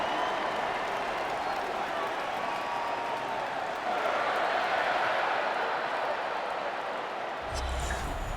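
Simulated home stadium crowd in a Madden 26 NFL game, Lions versus Falcons, producing a steady broad roar of cheering and applause that swells slightly midway, with a brief low thump near the end.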